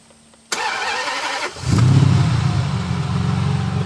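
After a click, the starter of a 1999 Ferrari 550 Maranello whirs briefly, then the engine catches and settles into a loud, steady, close idle rumble.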